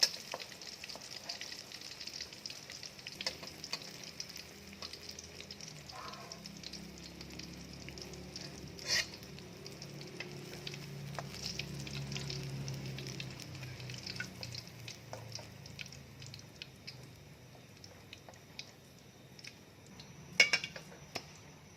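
Fish cakes made from silver barb fry in oil with a soft, steady sizzle. Occasional light ticks and clinks of a utensil or pan rise above the quiet frying.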